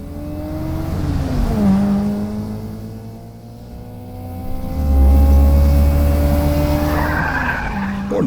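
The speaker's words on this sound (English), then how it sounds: "Chen doing a high-speed J-turn before even getting to turn 5" A race car in a quarterfinal race swings into a high-speed J-turn, with loud tires skidding and squealing over a revving engine whose pitch sweeps down and back up before a heavy low rumble.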